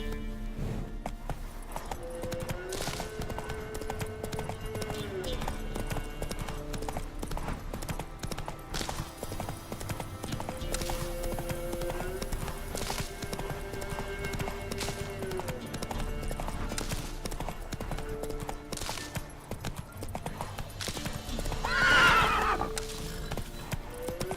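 Roach the horse in the fantasy game The Witcher 3, steady clip-clop of hooves walking at a moderate pace with a short whinny near the end, over ambient game music and background sound.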